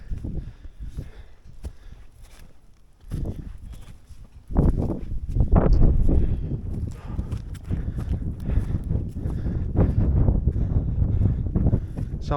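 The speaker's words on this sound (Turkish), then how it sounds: "Çok aşırı bir rüzgar var şu an." Strong wind buffets the microphone with a steady low roar, growing louder midway and staying heavy to the end.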